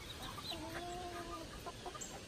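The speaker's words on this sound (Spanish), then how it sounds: "esa es gallinita" A hen clucks in a backyard flock on a cool, breezy morning, a few short close clucks over a steady wind-like background hiss, with other chickens faintly nearby.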